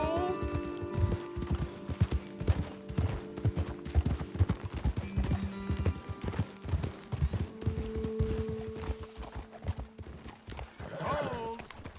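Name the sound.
horses clip-clopping, from video game Red Dead Redemption 2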